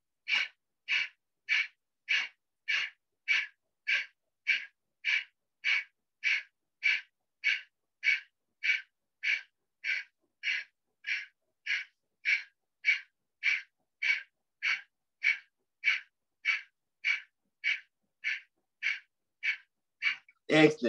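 Steady, deep breathing during a yoga exercise: about two dozen evenly spaced breaths, close and quiet, with a short louder sound right at the end.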